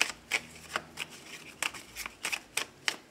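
Tarot cards shuffled and cut by hand in a series of crisp riffling bursts, each a short papery flutter, close and fairly quiet with brief pauses between, no voices.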